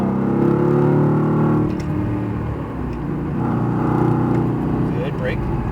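A Mercedes-AMG GT R driven on a track at Speed Vegas gives a steady, loud engine drone that dips and swells with throttle, with an instructor talking over it throughout.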